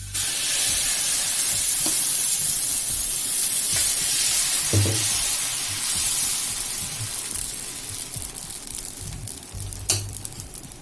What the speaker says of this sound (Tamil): தோசை மாவு ஊத்திக்கலாம்.